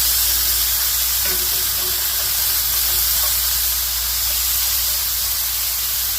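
Honey garlic pork searing low and slow in a hot pan, a continuous close sizzle and hiss that holds steady throughout, with no speech over it.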